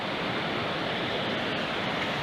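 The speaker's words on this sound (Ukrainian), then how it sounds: "Водоспад" A steady, dense roar of rushing water fills the whole clip, the Sopit waterfall in Skhidnytsia heard from close by in winter, with no voices.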